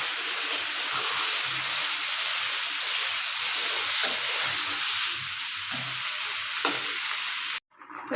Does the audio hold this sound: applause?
no